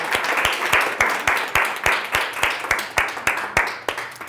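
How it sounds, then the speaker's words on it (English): Allison gets a round of applause at a public speaking workshop, with a small group clapping in a steady, evenly spaced rhythm that sounds moderately close and lasts about four seconds. "let's give Allison a huge round of applause."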